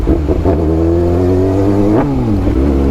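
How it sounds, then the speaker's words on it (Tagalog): Kawasaki Ninja ZX-6R 636cc motorcycle on a loud cold start, engine idling with a steady harmonic drone and a sharp rev blip near the end, close and continuous with no talk. "ganito kaingay yung motor mo. Tapos cold start pa."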